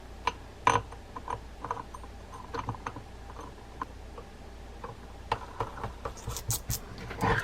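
A series of small clicking and ticking sounds comes from a Penn Senator 113 fishing reel's click ratchet assembly during handling. The clicks are irregular and light, some faint and some a little sharper, with no voices.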